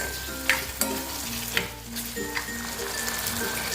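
Roasted peanut powder and masala are stirred into a pan of brinjal curry. A spoon scrapes and taps against the pan several times over a steady sizzle, close and fairly loud, with no talking.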